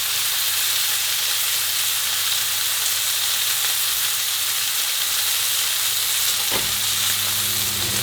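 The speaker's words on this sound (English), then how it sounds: "I'm going to sear my steak for 2 to 3 minutes on both sides." Steak sears in a hot pan with a loud, continuous, close sizzle and hiss that fills the whole stretch, with one brief knock near the end and no talking.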